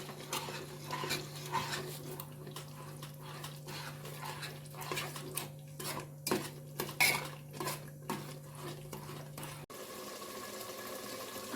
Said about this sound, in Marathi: आता आपण मॅश केलेली भाजी टाकून घेऊ. भाजी अशी मस्त हलवून घेऊया.